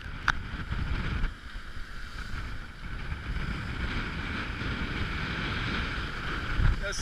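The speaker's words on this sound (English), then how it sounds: "It's blowing out of the northwest now." Wind buffeting a sailboat racing in a bay blows a steady low rush with gusty rumble and faint water wash, close and continuous for several seconds, with no talking.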